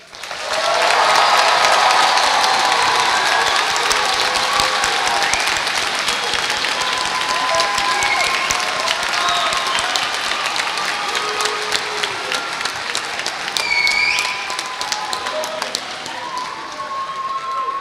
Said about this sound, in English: please join me in applause to congratulate the luminous class of 2022